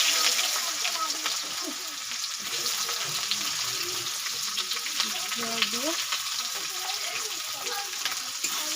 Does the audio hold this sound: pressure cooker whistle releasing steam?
no